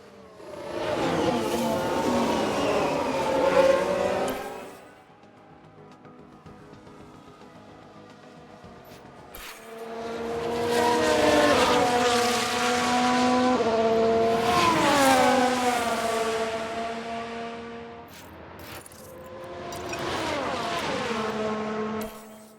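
F1 race cars in a video game, 1994 season with Ferrari, engines whining and rising in pitch through several long passes and accelerations, loud and near with short gaps between them and no talking.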